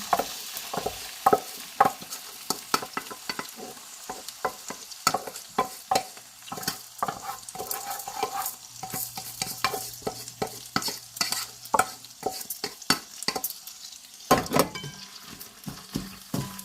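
Food being stirred and sautéed in hot oil in a pan during meal prep, with steady sizzling under a run of irregular scraping and clinking stir strokes, close and moderately loud, no talking.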